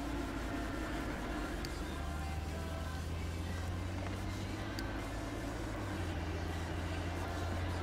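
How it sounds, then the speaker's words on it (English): Car noise in the life-simulation game The Sims 2: a steady low engine drone that holds its pitch and then steps down slightly, persistent under faint background game sounds. "If that car noise gets really annoying, guys, let me know."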